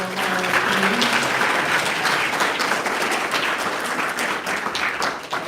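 An audience at a live Eller College of Management event applauds all five presenting teams, a steady, loud wash of clapping that carries through from start to finish with no pause.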